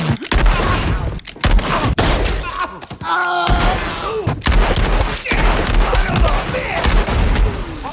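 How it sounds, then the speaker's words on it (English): Blank-firing old guns on a film set crackle in dense bursts of shots and thuds, with squib effects popping among them, loud and close for most of the stretch, with a brief lull near the middle. "The traditional squib effects and blood spurts, using old guns with blanks, all add to the illusion."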